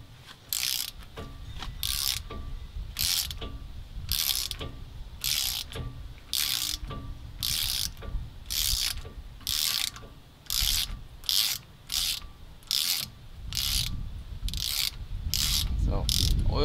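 Ratchet clicking in quick repeated bursts while breaking loose a bolt on the rear brake of a 2014 Ram 3500 HD dually truck, with short pauses between strokes and a low hum underneath, moderately loud and close.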